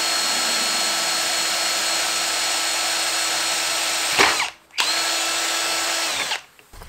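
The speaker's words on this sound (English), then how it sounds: "We're gonna drill the hole on top of it" A power drill bores a hole through wood with a drill bit, a loud, steady high whine running for several seconds, briefly stopping, then resuming before cutting off.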